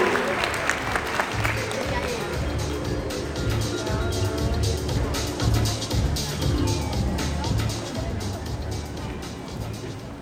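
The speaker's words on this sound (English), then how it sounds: "Please give a big round of applause to welcome Professor Jae Han from Chungan University." Audience applause welcomes a speaker at a national herbal medicine conference, a steady sustained clapping that fills the hall over a low background hum for the whole stretch.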